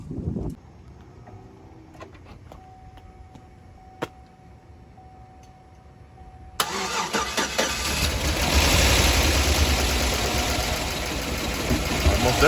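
A 5.3 LS V8 in a Suburban cranks with a few clicks, then catches abruptly and settles into a loud, uneven rough idle that continues to the end. Faint voices can be heard before the start.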